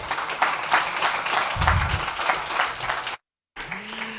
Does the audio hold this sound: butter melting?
no